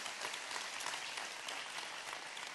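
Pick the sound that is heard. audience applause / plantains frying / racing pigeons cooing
audience applause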